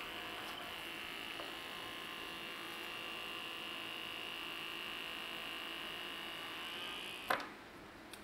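The electronically switched pump inside an RC Type XXI German submarine model makes a steady, faint electric hum that runs unbroken, then ends with a sharp click as it is switched off.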